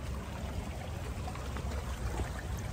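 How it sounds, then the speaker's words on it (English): A creek flows steadily beside a main road, a continuous broadband rush of water with low rumble, fairly close and even throughout with no voices. "On the creek, just don't fall in the creek."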